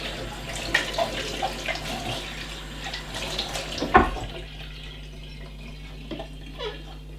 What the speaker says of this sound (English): Again, you just rinse the casing out, make sure you've got any hair and